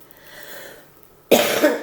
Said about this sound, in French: pardon, je tousse, excusez-moi.